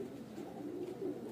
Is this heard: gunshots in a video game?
no